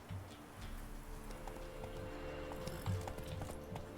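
Roach, the horse in The Witcher 3, trots with a steady clip-clop of hooves over a quiet outdoor backdrop, mid-distance and fairly faint.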